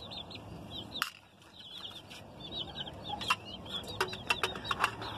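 Chickens at a poultry farm, with a hen and her chicks, make soft, scattered clucks and brief flurries of wing flapping, fairly faint and close by with quiet gaps between them.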